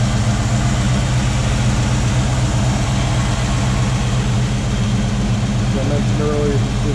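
A 1965 Ford Mustang GT Fastback engine runs steadily at idle, a loud, constant low rumble without pauses, with someone talking over it.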